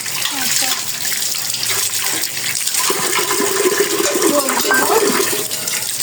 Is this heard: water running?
yes